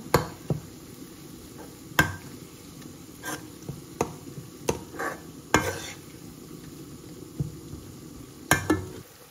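A spoon or spatula scrapes and knocks in a pan as green chilies are stirred into shrimp curry masala, giving irregular clanks and scrapes over a faint low sizzle, close and with no talk.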